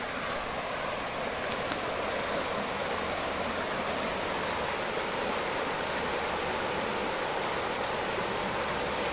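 A mountain stream flows beside a hiking trail near Diablo Lake, its steady broadband rushing continuous and fairly close, with no voices over the water.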